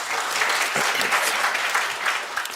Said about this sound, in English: Please, a round of applause for Mr. Grant.